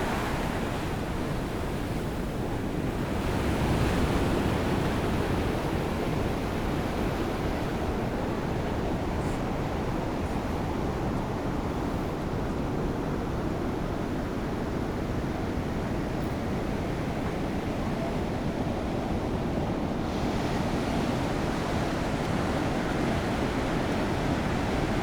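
Big ocean waves break at Coronado in a dense, continuous roar of surf that never lets up, with wind buffeting the microphone and no talking throughout.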